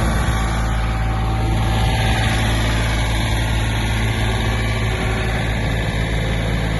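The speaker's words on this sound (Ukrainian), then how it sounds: "вмикаємо третю швидкість і даємо газ" A Mitsubishi MT-20 Japanese mini tractor engine runs loud and close under throttle in third gear, with a rotary tiller lowered, making a steady unbroken drone with no talking.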